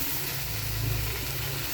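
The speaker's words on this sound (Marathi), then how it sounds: "आता त्याच्यामध्ये मी टाकत आहे टमॅटो," Okra frying in a pan with tomatoes just added gives a continuous, fairly loud sizzle and hiss with no pauses, and no one talks over it.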